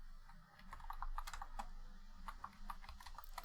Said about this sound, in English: oh no, typing on the wrong screen.